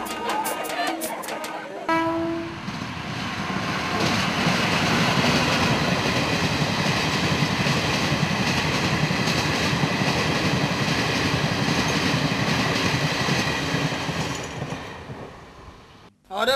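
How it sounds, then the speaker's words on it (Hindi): Train rattling along the rails, a loud, close, sustained rumble and clatter with rhythmic clacking that swells after a brief tonal sound at the start, then fades near the end. "रेलगाड़ी का दंदन दंदन भागते"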